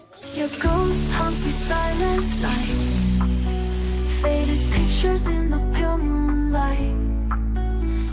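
An egg pancake sizzling steadily in a ghee-brushed pan, lightly salted, a continuous close frying crackle over a background music bed with no talk.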